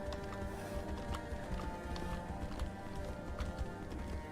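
A horse's hooves clip-clop in the fantasy video game Tainted Grail: The Fall of Avalon, a steady close trotting rhythm of sharp hoof strikes over a dense layered game soundscape.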